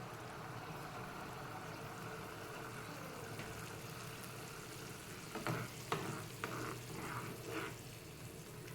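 Steady bubbling hiss of sugar water boiling in a pot on a gas stove at full flame, with a few light clinks of stirring toward the end.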